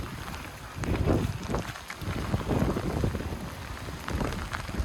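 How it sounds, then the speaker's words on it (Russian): Heavy rain pours down outdoors in an irregular, gusty wash of noise, with wind buffeting the microphone. "Дождик идет вовсю."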